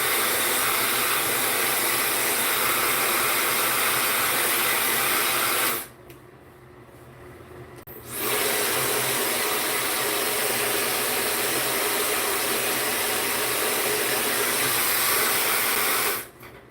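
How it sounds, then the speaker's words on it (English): A blow dryer roars steadily, cuts off for about two seconds, then whirs back on at full strength before stopping again at the end. "This blow dryer is about to go off just a little bit for a short period."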